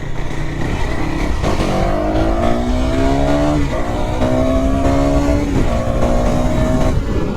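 A KTM 390 motorcycle engine revs repeatedly on a ride, its pitch climbing in several loud, steady sweeps over constant road and wind noise.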